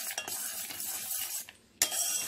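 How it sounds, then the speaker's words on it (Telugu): A spoon stirs kalakand milk mixture in a pan in a steady scraping rhythm, with faint sizzling and a brief pause before stirring resumes, close up and without talk. "ఈ విధంగా దగ్గరగా అయ్యేంత వరకు కూడాను కలుపుతూనే ఉండాలి"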